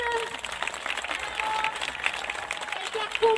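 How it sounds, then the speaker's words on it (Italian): Audience clapping and crowd noise at the Borgatalent 2019 talent show, an uneven swell of applause under a loud host's voice and backing music cues, fairly close and busy throughout. "Allora ragazzi, io vi chiedo un fortissimo applauso per Thomas,"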